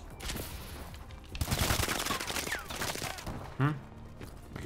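An S12 shotgun fires in Call of Duty: Advanced Warfare, loud blasts over dense in-game battle noise with a sharp, heavy boom near the end.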